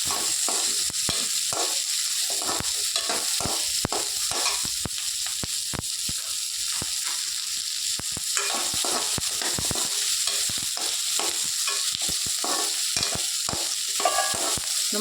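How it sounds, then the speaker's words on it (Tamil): Onions sautéing in a pan for South Indian onion chutney, a steady close sizzle broken by frequent scraping stirs of a spoon against the pan, with no talking. "வெங்காயம் டேஸ்ட்டாக இருக்கணும்னா கொஞ்சம் வதங்கணும்."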